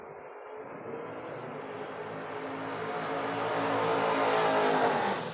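A Ford Mustang drag racing car launching and accelerating down the strip at a door-car event, engine roar rising steadily in pitch and loudness over several seconds.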